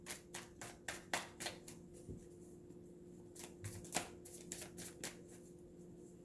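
A deck of tarot cards is shuffled by hand at close range, a quiet sequence of crisp riffling bursts and soft flicks at an irregular rhythm, with no talk.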